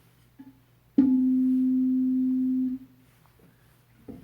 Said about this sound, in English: So I've got this other tuning fork that's got these masses on there